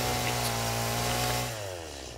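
Chainsaw in the video game Satisfying Factory, a loud, steady buzzing engine drone held throughout that drops slightly in pitch and level toward the end, with no talk over it.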